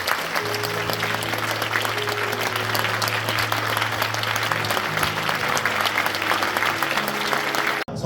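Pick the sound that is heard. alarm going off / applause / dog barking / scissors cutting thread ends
applause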